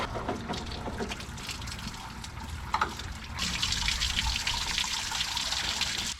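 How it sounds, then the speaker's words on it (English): Water rushes through the radiator of a 1973 big block Chevrolet C10 pickup during a flush, a steady splashing flow that swells louder and brighter about halfway through and runs continuously with no talking. "So we need to flush this, the radiator, and since we're there, we should probably wash this sucker out too."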